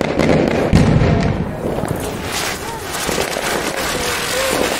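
Continuous crackling and hissing of a ground spinner firework during Diwali, loud and close, with a few sharp pops early on and voices faintly mixed in.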